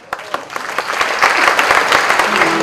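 Audience applause at a religious gathering honouring a young child's fasting, scattered claps building quickly into dense, sustained clapping from a full crowd, moderately loud and close.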